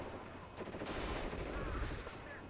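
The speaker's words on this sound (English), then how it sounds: "Here comes the artillery." Artillery fire in the WARNO real-time strategy game rolls as a dense, continuous barrage of booms and crackling gunfire, loud and unbroken throughout.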